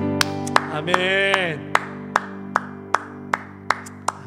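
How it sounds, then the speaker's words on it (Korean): Church congregation clapping during worship, sharp evenly spaced claps in a slow steady rhythm, heard close and clear, with a sustained sung or spoken tone early on under a droning music backing. "우리 큰 박수로 주님 앞에 영광 올리시겠습니다"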